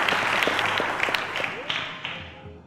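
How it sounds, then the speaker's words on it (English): Studio audience applause at a televised quiz show as a contestant is eliminated, a dense steady patter of clapping that thins and fades toward the end, with a host's voice briefly over it. "A round of applause to Ishaq"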